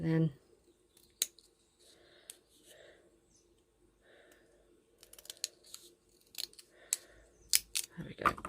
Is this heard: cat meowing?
no